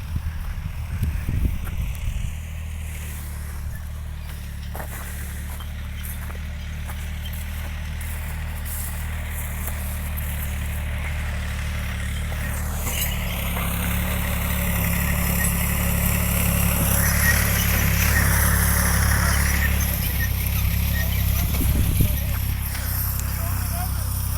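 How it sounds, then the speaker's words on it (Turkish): Türk Fiat 450 tractor running in a wheat field, a steady low engine drone that grows slightly louder partway through, with someone talking over it and outdoor wind. "Traktörümüz Türk Fiat 450 arkadaşlar."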